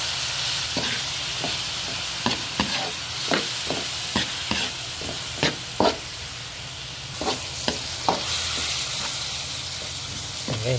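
Tomatoes go into hot oil with other ingredients for a sautéed mixed vegetable dish: a soft continuous sizzle and hiss carries on with sharp, spaced clacks of a spatula against the pan, and no talking.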